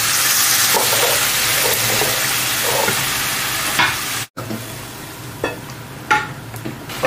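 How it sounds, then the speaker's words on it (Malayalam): Fried masala and browned onions for a pepper chicken curry sizzle loudly in a pan while a spoon stirs them, with a brief dropout midway and a few scraping strokes afterward. "ഇതെല്ലാം കൂടി നമുക്കൊന്ന് മിക്സ് ചെയ്തെടുക്കാം"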